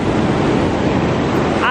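Ocean surf at a beach in Los Cabos rushes steadily and fairly loudly, with wind buffeting the microphone throughout and no clear break between waves.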